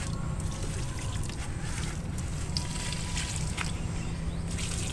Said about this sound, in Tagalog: so ibubuhos mo lang ganyan yan so mabilis siyang mag absorb sa lupa kasi natunaw na po siya sa tubig